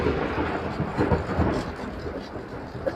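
Steady rain falls through a cool spell of weather, a dense continuous patter with occasional louder drops and a low rumbling undertone, no voices present.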